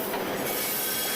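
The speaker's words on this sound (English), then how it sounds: "You see that train moving behind me?" A train rolls past behind an outdoor rally in Lansdale, its wheels squealing loudly and steadily along with a continuous rail rumble, close and with no talk over it.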